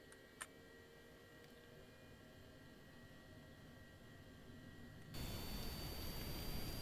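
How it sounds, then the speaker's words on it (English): An aircraft auxiliary power unit runs as a low, steady hum with a faint whine, then swells abruptly into a louder, broader roar near the end. "Yeah, what you're hearing is the APUs."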